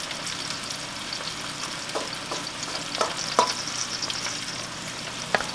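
Corn frying in melted butter and bacon grease in a pan, a steady close sizzle with scattered scrapes and clicks of stirring.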